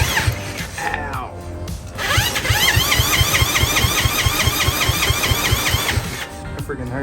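A power drill spins over an engine against compression: after a few short bursts the drill whines steadily, and a rhythmic chugging pulse from the compression strokes runs for about four seconds, loud and close.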